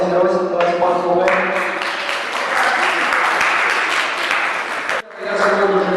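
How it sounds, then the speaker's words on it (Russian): Sustained applause from a seated audience at a Russian-as-a-foreign-language competition for students, dense clapping swelling for several seconds after brief talk, then stopping abruptly as a voice resumes. "Давайте похлопаем."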